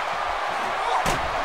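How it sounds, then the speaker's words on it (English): A steel chair smashes into a wrestler during a televised wrestling match, one hard slam cutting through a steady crowd roar. "brained her with that chair"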